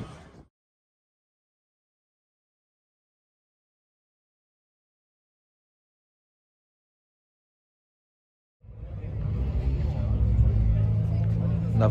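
A Ford Cosworth at Mallory Park during a Ford RS Owners Club national day, heard as a loud, close engine roar that bursts in after a long silence and holds steady to the end, with crowd chatter around it.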